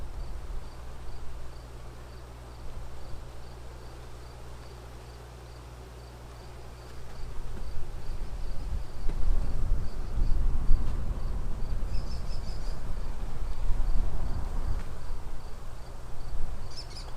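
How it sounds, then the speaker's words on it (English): Steady honeybee buzzing outdoors around a hive box with jars set out for comb, a continuous droning hum that swells louder midway and stays busy, with faint rustling underneath. "Come on, bees."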